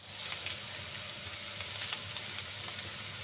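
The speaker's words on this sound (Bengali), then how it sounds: "তেল আর পেঁয়াজ এটা বেশি দিলে করলা ভাজি তিতা কম লাগে।" Bitter gourd (karela) and onion fry steadily in oil with prawns, a continuous dense sizzle with faint crackles, fairly close and unbroken by voices.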